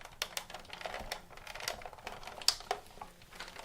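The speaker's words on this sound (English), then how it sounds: "run it through the folder to emboss it" A paper card sandwich is cranked through a manual embossing machine with an embossing folder, giving faint, irregular clicking and ratcheting taps close by, with no voices.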